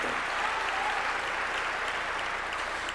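A church congregation claps together, a dense, continuous burst of applause filling the room at an even level for a few seconds.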